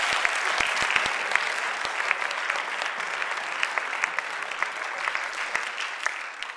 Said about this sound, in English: let's all give a round of applause for our class.